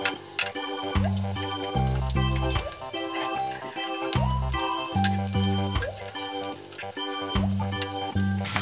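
Sweet potato cakes fry in hot oil with a steady crackling sizzle under rhythmic background music.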